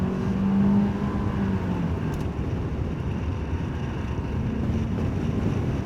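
Zenos E10 sports car on a public road after leaving the track, its engine and tyre roar a steady broadband rumble with wind buffeting, loud and continuous throughout with no talk.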